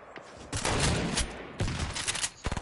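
Sniper gunfire in a video game, several sharp shots with a burst of rapid cracks near the end, loud and close amid dense game noise.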